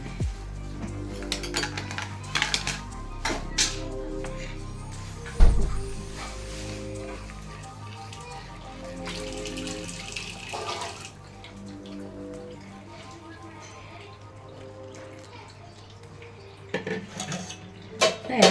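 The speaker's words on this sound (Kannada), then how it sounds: "ಜೀಟಿಗೆ ನೀರು ಇಟ್ಟಿದ್ನಲ್ಲ ಈ ನೀರು ಹಾಕ್ತಾ ಇದ್ದೀನಿ" Hot water is poured and a spoon stirs and scrapes in a metal pot, mixing sorghum flour dough for masala roti, with clinks and knocks, close by and without talk.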